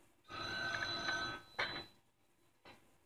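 Telephone in the police-management game This Is the Police rings in two bursts, a sustained ring followed by a shorter one, then a faint trailing blip, moderately loud with no talk over it.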